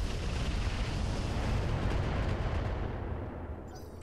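Mech weapons fire in the Roguetech BattleTech video game: a dense, continuous roar of heavy cannon blasts and explosions that rumbles loudly, then thins out toward the end.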